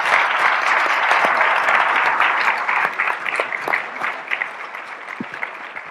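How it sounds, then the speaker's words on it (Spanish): An audience applauds at a labor reform panel discussion, with dense, close clapping that holds strong for a few seconds and then thins into scattered claps as it fades. "Les pido por favor un aplauso para todos ellos."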